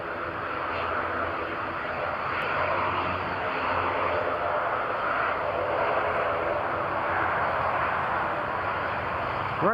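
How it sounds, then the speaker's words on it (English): A British Airways airliner arrives at Newcastle International Airport during Storm Lilian, its engine roar a steady, broad rumble with wind noise throughout, no one speaking. "Right, British Airways is next in."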